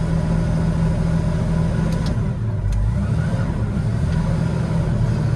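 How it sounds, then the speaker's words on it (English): A car engine runs in fourth gear with the brake held, revved to warm it up; a steady, loud, continuous drone holds at a fairly even level throughout, with no voices. "put it into 4th gear, put your foot on the brake and rev"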